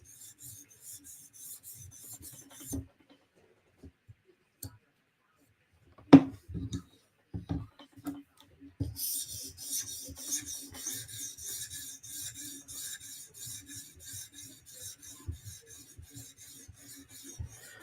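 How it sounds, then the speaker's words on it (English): A custom knife's bevel is polished on a sharpening stone, giving soft, close rasping and rubbing strokes in irregular bursts, with some quiet clicks and a few pauses. "Like when I do this, it's polishing the top of the bevel right now."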